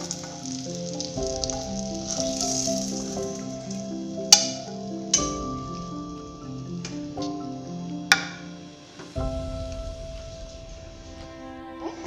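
Onions fry in a pan for an egg curry, giving a steady soft sizzle under tuneful background music, with a few sharp ticks of a spoon against the pan.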